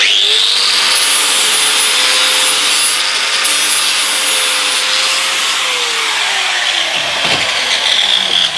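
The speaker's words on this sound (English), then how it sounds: "sand it down a bit." Wooden part being sanded down with a power tool, a steady loud abrasive whirring rub that holds throughout, its motor tone dipping near the end as pressure changes.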